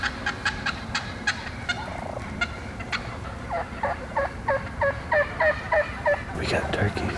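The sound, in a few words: wild turkeys gobbling near decoys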